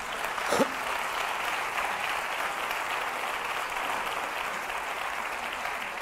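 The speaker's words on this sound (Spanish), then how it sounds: "No, no les aplaudan" Steady applause from a live comedy show audience fills the room, a dense wash of clapping with a brief sharper burst near the start, holding at an even level throughout.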